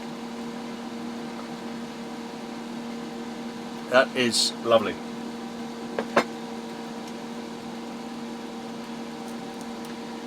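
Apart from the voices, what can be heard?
fan running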